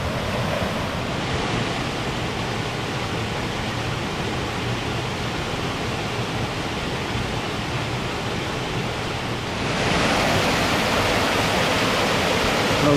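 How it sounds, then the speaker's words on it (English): A small waterfall at Cavern Falls near Saluda, North Carolina, rushes as a steady, close wash of water noise that swells louder for the last few seconds. "A little small waterfall here."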